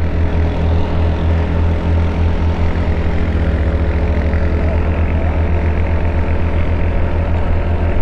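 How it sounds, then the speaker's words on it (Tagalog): A Yamaha Fazzio scooter engine held at full throttle while climbing a steep hill on a ride near Taytay Falls in Majayjay, Laguna, a loud, steady, droning whir with strong wind noise, unbroken throughout. "Parang simpleng ahon pero makunat, no? Kasi naka full throttle ako"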